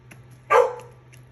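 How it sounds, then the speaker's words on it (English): A single sharp dog bark, muffled behind a closed door indoors, close and loud, with a quiet room hum underneath. "please excuse my dog. She's upset that I closed the door on her"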